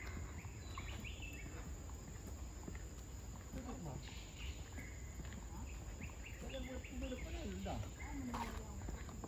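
Birds chirping and calling among the trees of the Singapore Botanic Garden, faint scattered calls over steady insect-like hiss and outdoor ambience, with people talking nearby throughout.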